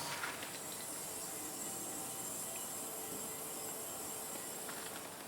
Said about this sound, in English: see if you can actually hear the gas moving into the small can